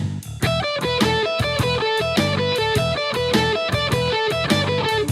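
Guitar running a scale in four-note groupings with alternate picking, a rapid steady stream of evenly picked notes with a slightly driven tone, close and continuous with no talking.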